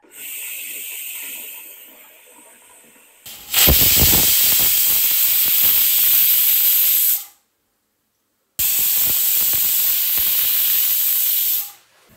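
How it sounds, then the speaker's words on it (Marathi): A pressure cooker on a gas stove vents steam in two long, loud hissing bursts separated by a brief silence, after a quieter stretch of softer hiss at the start. "आता आपल्या या कुकरच्या 3 शिट्ट्या झालेल्या आहेत"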